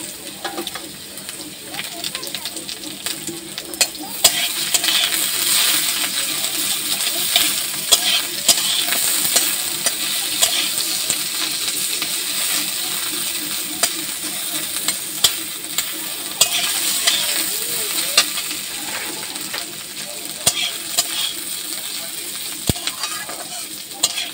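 Chopped onion sizzles and fries in a pan with already fried potatoes, a continuous loud crackle with occasional stirring clinks and scrapes, running steadily throughout.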